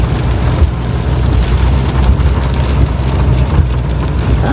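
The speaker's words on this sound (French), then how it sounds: "là, c'est encore reparti pour de la pluie" Steady rain falls during flooding and patters continuously on surfaces, with a low rumble underneath and no voices.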